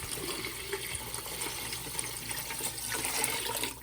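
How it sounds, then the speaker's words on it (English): Water pours steadily into a pot for a few seconds, eight cups in all, a close, continuous splashing rush. "Now I'm going to pour in 8 cups of water."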